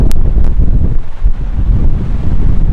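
Strong gusting wind in a dust storm in Boise, Idaho, roaring heavily and buffeting the microphone with a constant loud low rumble and no speech.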